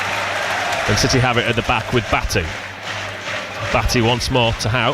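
Football crowd noise behind the goal at a York City v Forest Green Rovers National League match, a steady roar beneath close commentary.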